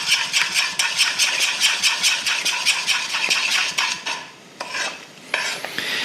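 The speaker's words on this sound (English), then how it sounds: "Just gonna keep stirring, make sure all that gets combined." Condensed milk is stirred into caramel in a pan, a rapid rhythmic scraping of a utensil against the pan repeating steadily, then pausing briefly before resuming, with no talking.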